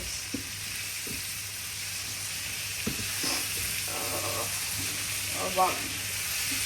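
Masala spiked with poppy seeds fries in a pan with a steady close sizzle and hiss, broken by a few stirring clicks and scrapes, and a voice speaks faintly underneath.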